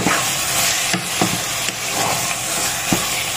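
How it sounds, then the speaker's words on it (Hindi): Dry fruits being stirred into gajar ka halwa, a grated carrot sweet with cardamom powder, in a pan: a steady close sizzle of frying with scraping stirs and a few soft clicks of the spoon against the pan. "और सब पूरा ड्राई फ्रूट्स डालेंगे इसे अच्छे से चला के मिक्स कर देंगे"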